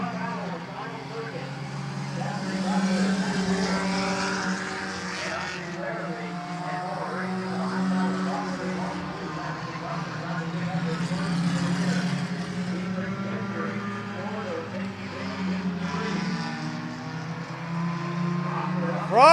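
Race cars circle Midvale Speedway, their engines droning in overlapping waves that rise and fall as the pack passes, sustained and fairly loud throughout, with announcer-style talk faintly mixed in.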